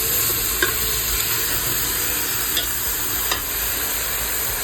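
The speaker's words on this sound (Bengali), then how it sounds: "এখন আমরা গোস্ত দিয়ে রাখছিলাম গোস্ত দিয়ে দিব" One kilogram of meat with ginger and garlic fries in a pot for Yemeni kabsa, with a loud, steady sizzle and a few sharp clicks of a utensil stirring and scraping.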